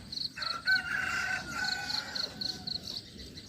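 A rooster crows in a rural Thai village, a drawn-out cock-a-doodle-doo with bright warbling notes, heard at moderate distance over steady low outdoor background noise.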